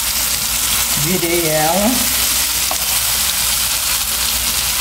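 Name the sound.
banana slices frying in a pan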